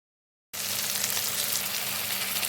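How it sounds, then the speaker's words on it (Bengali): Tomato pieces and onions frying together in a pan, cooking for an egg curry, give a steady close hiss that cuts in abruptly after a moment of silence and stays even throughout, with no talking. "এই টমেটোর টুকরোগুলোকে আমি এখন পেঁয়াজের সাথে হালকা ভেজে নিচ্ছি।"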